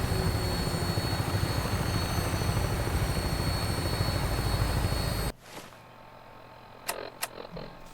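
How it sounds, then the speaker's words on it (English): A Brotherhood of Steel vertibird helicopter in the video game Fallout 4 roars at takeoff with a loud, dense, steady whir of rotor and engine noise, then cuts off abruptly into quiet with a few faint clicks. "we're going to surprise the Minutemen with a Brotherhood of Steel helicopter"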